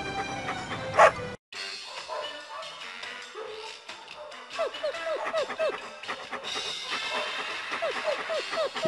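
Several dogs bark, yip and whimper at the Second Chance Dog Shelter in Disney's 102 Dalmatians Activity Center PC game, short repeated barks in quick runs over a steady background, fairly close.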